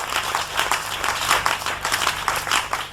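A church congregation applauds together, a dense, loud wash of clapping that swells and dips in waves throughout, with a low hum underneath.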